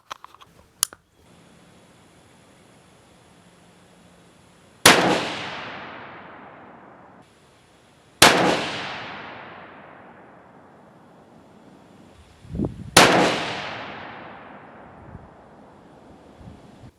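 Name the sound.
rifle shots fired from lead sled and rest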